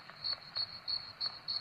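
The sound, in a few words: crickets chirping in video game Scary Neighbor 3D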